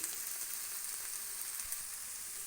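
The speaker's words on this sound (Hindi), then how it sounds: "अब इनको 2 मिनट फ्राई करने के बाद" Vegetables frying in a pan for chicken jalfrezi give a steady, even sizzle with soft crackles throughout, fairly quiet and uninterrupted, with no voices.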